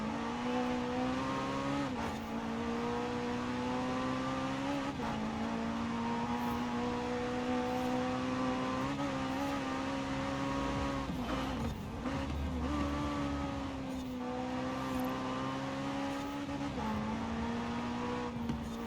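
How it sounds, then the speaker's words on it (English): Race car engine in Forza Horizon 4 held at a high, steady drone, bouncing off the rev limiter into a corner with brief dips as it shifts; loud and continuous throughout, no talk. "Kind of rode the limiter there coming into that corner, but it worked."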